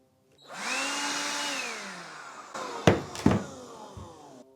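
A cheap multi-tool running as a vacuum gives a steady whining motor drone that rises as it spins up, then two sharp clacks near the end as it winds down, heard close with no talking.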